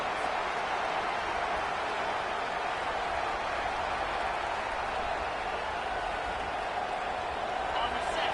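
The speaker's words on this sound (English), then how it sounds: "This crowd bringing the energy and noise early." A college football stadium crowd at Oklahoma versus South Carolina roars in a dense, steady wash of cheering and noise, sustained and loud throughout, with no single voice standing out.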